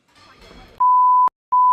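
A timer sounds two loud, steady electronic beeps, a long tone followed by a second after a short pause, right after a brief stretch of faint murmur.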